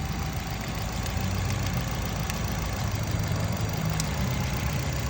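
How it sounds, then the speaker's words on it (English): A 2014 Nissan Altima's 2.5 engine idles after valve cover replacement, giving a steady, loud, even hum close by with no voices. "El motor no está fallando."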